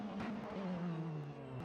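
A BMW DTM race car of Team RBM runs at the Hockenheimring GP circuit, its engine giving a steady, loud droning hum that holds nearly level for the whole short stretch.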